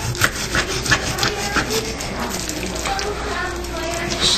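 A knife saws through a rack of pork spare ribs, giving close, rough rasping strokes in a steady repeating rhythm with slight meaty crunches.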